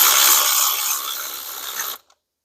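Rapid, close ratchet clicking while bolts are tightened on the water pump of a 2018 Jeep Grand Cherokee, a dense continuous burst for about two seconds that then stops abruptly.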